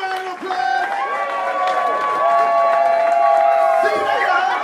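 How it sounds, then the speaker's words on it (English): A theatre audience applauds and cheers for several seconds after a stage performance, a full crowd of clapping mixed with whoops and tonal musical sounds, fairly loud and continuous. "Give them a big round of applause."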